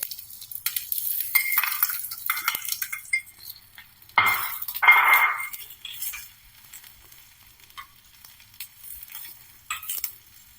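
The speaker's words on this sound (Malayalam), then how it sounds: "നെയ്യ് ഒഴിച്ചു കൊടുത്തിട്ടുണ്ട് കേട്ടോ. അതിലേക്ക് നമുക്ക് ഉള്ളി മൂപ്പിക്കാം." Chopped onion sautéing in hot ghee in a pan, with soft sizzling and intermittent stirring scrapes and clinks of a utensil against metal, coming in short bursts between quiet gaps.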